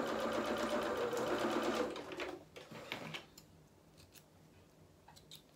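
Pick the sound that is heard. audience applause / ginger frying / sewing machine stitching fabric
sewing machine stitching fabric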